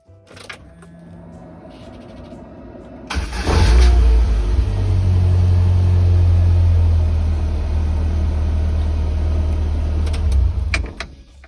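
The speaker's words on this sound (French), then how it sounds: "maintenant je vais démarrer pour vous montrer comment ça démarre avec une petite batterie comme ça" A 1999 Lotus Elise S1 running on a LiFePO4 battery cranks briefly and fires up, then settles into a loud, steady idle close by. The engine keeps running for several seconds before a few faint clicks near the end. No one speaks.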